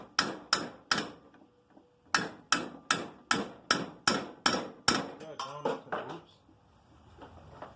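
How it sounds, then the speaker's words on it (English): A ball peen hammer knocks on metal at a workbench, a series of about fifteen sharp, ringing strikes in a quick regular rhythm with a brief pause, then fading taps. "hit it with the ball peen hammer"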